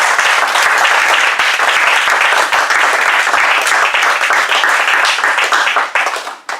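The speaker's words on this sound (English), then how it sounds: "Big round of applause." Loud, dense applause from a crowd at a Toastmasters breakfast club meeting fills the room continuously, many hands clapping at once before it fades out at the end.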